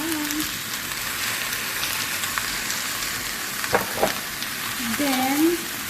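Shrimp frying in a pan, a steady broadband sizzle throughout with a couple of brief stirring knocks near the end and faint voice tones over it.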